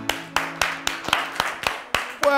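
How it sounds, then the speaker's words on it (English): Applause at a children's spelling championship: a steady series of loud, close hand claps in an even rhythm, with no talking over it. "A round of applause!"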